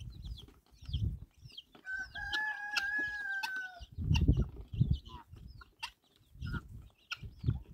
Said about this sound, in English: Bella, don't be attracted to the chicks.